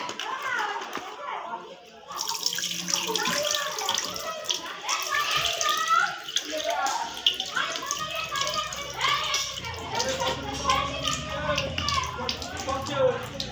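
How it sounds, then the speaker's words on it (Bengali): Water splashes and runs steadily over a stone grinding slab and pestle as they are washed, while children's voices chatter over it throughout. "শিল নোড়াটাকে ধুয়ে নাও"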